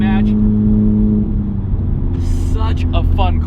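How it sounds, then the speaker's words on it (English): A 2018 Honda Civic Type R engine drones steadily while shifting gears, with a rev-match blip lifting its pitch midway. A voice talks over the engine throughout. "putting it to a different gear, and having the rev match go on and just listening to the rev match."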